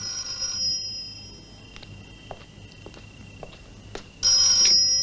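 A telephone rings in a house in a French film. There is one short ring at the start, then quieter moments with light footsteps, and then a loud ring comes back near the end.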